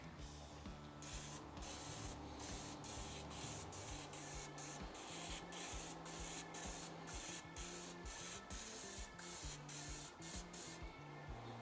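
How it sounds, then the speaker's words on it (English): Short bursts of cooking spray hiss onto a wire rack in a steady rhythm, close up, over a quiet background hum, with no talking. "I'm going to go ahead and spray my wire rack with some cooking spray."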